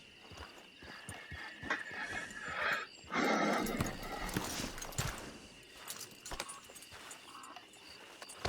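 A horse in the Red Dead Redemption 2 online game clopping along with steady hoofbeats, snorting and a brief whinny, with game ambience and tack jingling around it.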